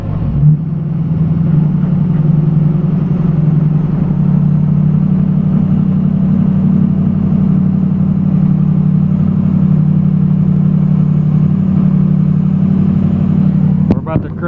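A Ford 6.0 PowerStroke diesel truck in 2wd pulls a loaded, stalled 35,000 lb dump truck uphill, its engine holding a loud, steady low drone under load for the whole stretch, ending with a brief sharp clatter.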